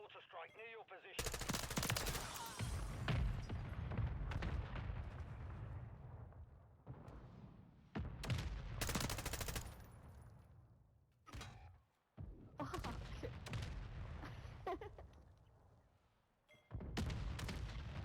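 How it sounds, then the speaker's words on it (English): Mortar strikes in a Call of Duty match crash down in heavy, loud bursts, mixed with dense machine-gun fire and explosions. The barrages run almost continuously with brief gaps. "Hostile mortar strike near your position."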